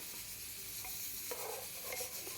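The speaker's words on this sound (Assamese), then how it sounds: "এতিয়া এয়া দেখিছেনে মাংসৰ পৰা তেলখিনি লাহে লাহে ওলাইছে, তাৰমানে মাংস ভাজা হৈ গৈছে" Goat meat fries in oil in a pan for a home-style curry, with a close, steady sizzle and occasional stirring scrapes, and no talking.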